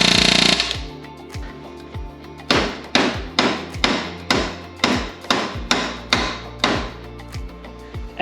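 A hammer flattens the end of a metal tube on a Front Runner Expander camp chair: about eleven sharp, ringing metallic blows at a steady pace after a brief opening noise, close and loud with no talking.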